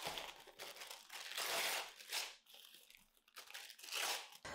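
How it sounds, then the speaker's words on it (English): Black tissue paper is torn into strips and small squares for a giant paper anemone flower craft, producing continuous close, soft crinkling and ripping with swelling bursts and no talk. "take black tissue paper and tear them into strips and some smaller squares"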